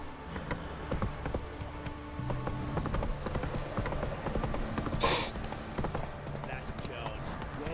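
Horse hooves galloping in The Witcher 3, a rapid steady clip-clop of hoofbeats running throughout, with a brief sharp hiss partway through and voices talking over it.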